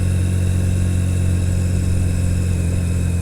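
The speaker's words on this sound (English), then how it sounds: "This is kind of bumpy on an old street bike." An old street motorcycle rides over a bumpy street, its engine a steady loud low drone with a constant hum and no breaks.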